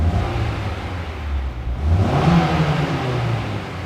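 Engine of a 2005 Honda S2000 sports car revving hard, a loud continuous roar that dips briefly, then climbs back to a high-pitched scream and holds there.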